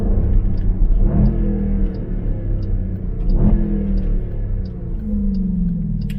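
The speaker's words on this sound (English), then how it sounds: "As you heard, those downshifts are ridiculous" Engine of a 2020 Dodge Durango SRT heard from inside, rumbling loudly and blipping up through quick downshifts at two sharp points, a deep growl throughout.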